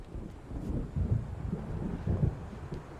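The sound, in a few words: thunder of approaching storm in Alan Wake Remastered video game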